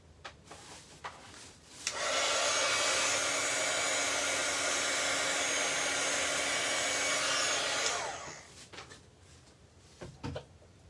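A hair dryer switches on and blows steadily for about six seconds to dry alcohol marker ink on vellum, a loud, even whoosh between quiet rustles and small knocks before and after.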